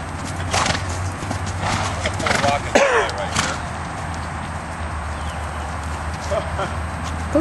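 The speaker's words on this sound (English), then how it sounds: "Back end is really learning how to canter in the circle." A mare canters in a circle during an early training ride, her hooves beating a steady, fairly close clip-clop, with a brief snort or whinny partway through over light background noise.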